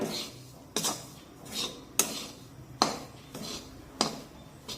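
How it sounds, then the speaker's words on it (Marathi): Besan flour roasting in a pan for laddoos, stirred with a spatula that scrapes and knocks against the metal in regular strokes, close and moderately loud with brief clanks between. "एकसारखं हे असं उलादल्याने हलवून घेऊया आणि छानपैकी बेसन पीठ भाजून घेऊया"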